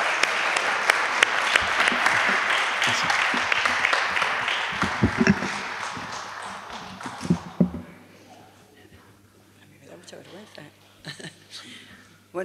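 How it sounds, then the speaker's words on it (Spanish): Audience applause welcomes a speaker at a gathering in the Sierra de Aracena, a dense, steady wash of clapping for about seven seconds that then fades, leaving scattered sounds and quiet room noise. "por si quieren darle a ustedes un aplauso de bienvenida"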